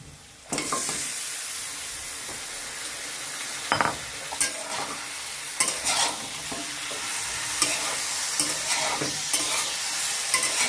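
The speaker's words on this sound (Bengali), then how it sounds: "চিকেনগুলোকে ভালো করে দুই মিনিট এইভাবে ভেজে নেব" Steady sizzling of free-range country chicken frying in a pan, with repeated scraping and clinking of a spatula stirring it close up.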